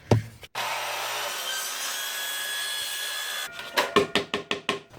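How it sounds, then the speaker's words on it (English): A plastic part for a homemade washing-machine salad spinner being cut by hand: a close, continuous rasping saw sound, then a run of quick, rhythmic back-and-forth strokes. "I'm cutting this slightly longer than I think I should."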